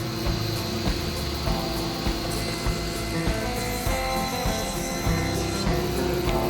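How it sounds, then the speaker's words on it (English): A rabbet being cut in wood for a dovetail slider box, a steady close machine whine with dense broadband rasping and small repeated ticks, continuous throughout with no talk. "Now we'll just rabbit it out."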